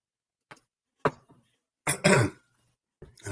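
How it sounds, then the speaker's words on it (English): A person coughs several times in short separate bursts, a couple of small throat-clearing coughs followed by a louder, longer hacking cough, close to the mic in an otherwise quiet interview setting. "I need a cough."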